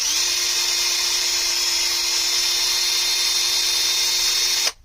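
Power drill driving a screw into a model kit, a loud continuous high-pitched whine holding perfectly steady for nearly five seconds before cutting off abruptly, close by with no voice.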